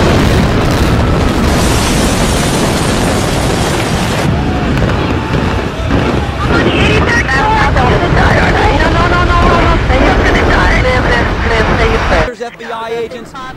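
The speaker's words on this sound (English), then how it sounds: "a huge explosion now, raining debris on all of us" A huge explosion as a plane hits the Burj Khalifa, heard as a loud, sustained roar of blast noise and rumble that fills most of the clip before cutting off near the end, with voices mixed in.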